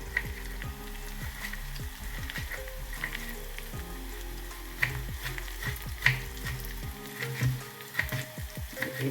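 Chopped onion browning in a pan of oil for a drumstick curry, giving a steady close sizzle with scattered pops and the occasional scrape of stirring.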